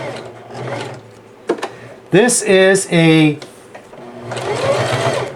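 A Singer Heavy Duty 5554 sewing machine stitches in short bursts, with mechanical whirring close by and a person talking before and after it runs.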